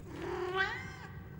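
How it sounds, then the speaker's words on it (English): A cat meows once in a horror video game, a single drawn-out, mid-pitched cry heard clearly over a faint low background. "Oh, there's a cat."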